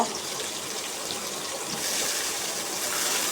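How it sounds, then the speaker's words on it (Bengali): Jackfruit pieces fry in hot oil in a wok, giving a steady, dense sizzle that grows slightly louder partway through, with no talking. "এবার এঁচড়ের টুকরোগুলো একটু ভেজে নেব"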